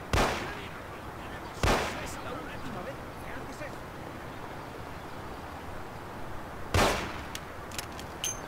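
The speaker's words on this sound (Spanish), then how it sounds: "Dos tiros en la cabeza" Two sharp gunshots in the Mafia video game, several seconds apart, each a loud crack standing out over a quiet hissing background.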